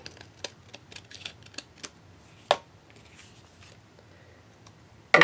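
Scissors snip through a foiled card panel in a run of soft, close clicks and rustles, with one sharper cut midway and a loud burst of handling noise at the end.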